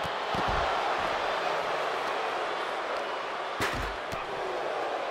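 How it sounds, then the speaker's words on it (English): Two heavy metallic clangs of wrestlers' bodies hitting a steel chair and metal ring post ring out over a steady, loud wrestling crowd roar, one early and one a few seconds later. "You can hear clang of bodies on metal here"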